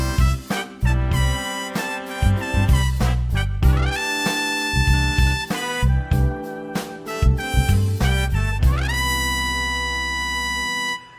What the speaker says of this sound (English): we're going to hear the rips on the louder velocity notes on top here.